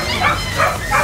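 Dogs at a busy pet market in Recto, Manila, where chow-chows and huskies are sold, give a few short yips and barks in quick succession, close by, over crowd noise and people talking.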